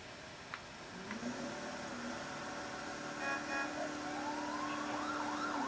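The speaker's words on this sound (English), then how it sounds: "Your police car has no lights on my screen, Tyler." A police car siren from the GTA IV: The Ballad of Gay Tony video game wails and sweeps up and down, moderately loud over faint traffic and engine noise.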